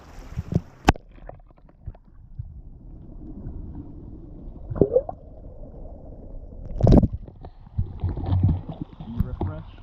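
Camera plunged into clear, ice-cold sea water off the Northern Ireland coast at Portrush, muffled gurgling and sloshing with sharp splashes as it enters and leaves the water, a few bursts standing out over a murky underwater hum.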